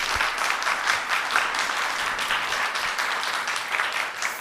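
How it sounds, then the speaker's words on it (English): Sustained applause from an audience at a family-therapy institute event, a dense steady wash of many hands clapping together at even loudness for several seconds, with no talk over it. "So if they could stand and be applauded."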